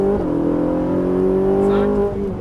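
A Ferrari 458 Italia engine hums steadily under acceleration during a track driving course, its pitch gradually climbing before easing off near the end.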